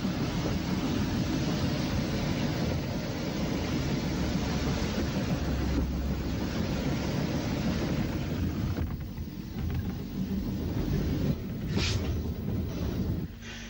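Train running on the Ventnor line on the Isle of Wight, a continuous rumbling roll with steady wind buffeting the microphone throughout, a sharper clank near the end, no voices.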